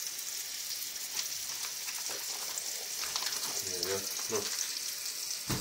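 A meat patty frying in a pan gives off a steady, fairly loud sizzle throughout, with brief voices speaking over it near the end.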